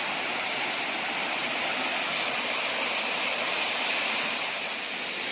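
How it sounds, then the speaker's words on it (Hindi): Water from a waterfall rushes in a constant, hissing roar, close and steady, with no talking over it. "ये झरना का पानी है"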